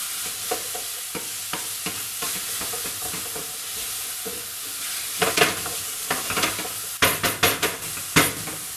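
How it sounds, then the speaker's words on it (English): Garlic is stirred into frying bacon with a wooden spoon, giving a constant sizzle under repeated knocks and scrapes that quicken into a rapid run of clatters near the end; no voices. "I am going to throw it in with the bacon and with my wooden spoon just mix that through"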